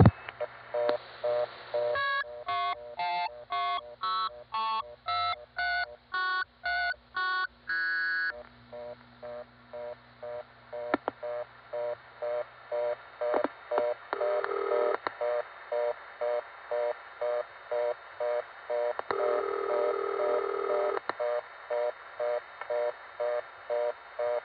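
A telephone line on a 1970s step-by-step exchange near Warwick, New York, opens with a rapid run of touch-tone digits, then steady repeated ringing bursts follow, with a brief ring trip click near the end of the ringing.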